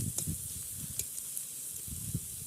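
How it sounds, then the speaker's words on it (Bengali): Chopped onion frying in fish oil in a pan, a soft bubbling sizzle with a few light stirring knocks, fairly quiet and steady, no voices. "পেঁয়াজটাকে সামান্য ভাজা ভাজা করে নিব"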